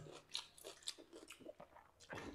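Crunchy fried potato being chewed alongside soaked leftover rice and mashed peanuts: close, quiet crisp bites and crunches in an irregular rhythm, with a few louder chomps and no speech.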